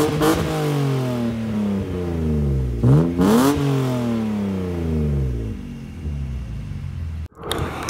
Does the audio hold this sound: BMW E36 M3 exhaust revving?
yes